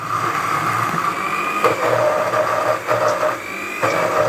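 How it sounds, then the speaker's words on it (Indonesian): An electric blender whirs steadily while grinding shallots and garlic into a spice paste, its loud motor note pitching up and down with brief dips and surges, alone without talk. "Kita tutup, Mams, dan mulai kita blender kembali sampai halus."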